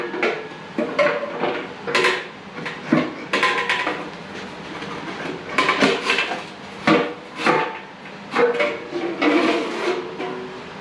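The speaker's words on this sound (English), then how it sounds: "Now I should be able to easily remove this rear fender" Metal clanks, knocks and scrapes come from removing the rear fender of a 1980 Harley-Davidson FLT Shovelhead, irregular bursts with short gaps, close by and fairly loud.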